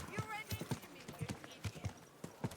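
Horse hooves clip-clop in Kingdom Come: Deliverance II, a steady run of sharp, fairly close hoofbeats at a walking pace, with voices talking over them.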